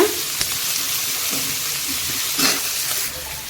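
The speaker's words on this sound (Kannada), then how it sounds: "ಈಗ ಇದನ್ನು ನಾನು ಎಣ್ಣೆಯಲ್ಲಿ ಫ್ರೈ ಮಾಡ್ಕೋತೀನಿ" Chopped onion fries in hot oil in a pan with a steady, moderate sizzle, broken by a couple of brief stirring scrapes.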